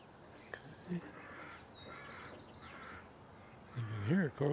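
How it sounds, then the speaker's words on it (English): A few harsh crow caws ring out at a distance, with a louder, closer call near the end over faint background noise. "You can hear a crow calling."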